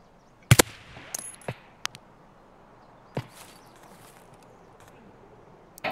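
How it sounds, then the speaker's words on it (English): Sharp, isolated shots from a silenced sniper rifle in Escape from Tarkov crack at uneven intervals over quiet outdoor ambience, a few close and others fainter. "somebody else shooting from the hill"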